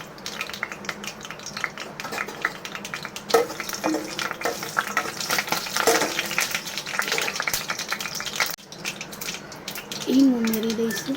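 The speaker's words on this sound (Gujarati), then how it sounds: "કઢાઈ લીધી છે, તેલ નાખ્યું છે, હવે રાઈ નાખી દઈશું." Mustard seeds, red chili and curry leaves sizzling in hot oil in a kadai for a Kathiawadi khichdi tempering, intermittent crackling and popping with some stirring clatter, moderately close.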